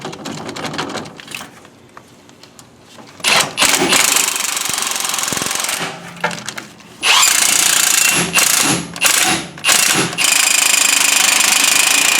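A power tool with a deep socket drives lift kit bolts on a Chevy Silverado 1500, loud rattling impact bursts starting and stopping several times, the longest runs in the second half.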